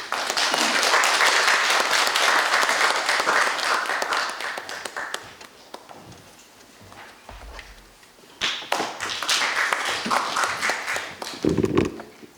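An audience at the opening ceremony of an academic symposium breaks into loud applause, which fades into a quieter stretch with scattered claps and thuds before a second strong burst of clapping rises again.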